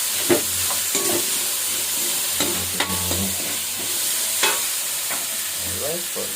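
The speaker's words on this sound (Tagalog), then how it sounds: "gisa-gisa po muna natin yung mga luya, bawang, sibuyas, kamatis" Ginger, garlic, onion and tomato sautéing in a pan for Ilocano pinakbet, a steady close sizzle broken by frequent spatula scrapes and clinks, with a low hum underneath.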